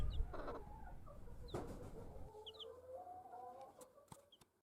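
Chickens cluck and a hen calls softly around a backyard garden coop, with scattered short clucks over a quiet outdoor background and no talking.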